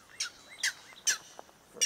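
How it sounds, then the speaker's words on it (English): A bird calls with sharp, high chirps repeated at an uneven pace, clear and fairly close, heard alone outdoors along a wet trail. "Bird's telling us to stop."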